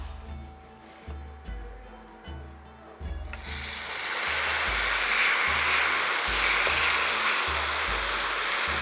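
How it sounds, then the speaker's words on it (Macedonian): Water poured into a hot cooking pot sets off a sudden loud, steady sizzling hiss that swells and holds after a few seconds of low rhythmic thumping, close by and without talk. "Сега ќе ја ставам водата."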